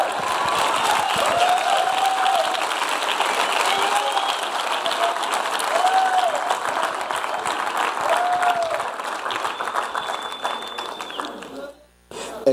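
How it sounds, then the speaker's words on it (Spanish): Sustained, loud applause from a church congregation, dense clapping filling the space for most of the stretch before cutting off abruptly near the end, with a voice speaking over it. "Aplauda más fuerte para tomar un poquito de agua."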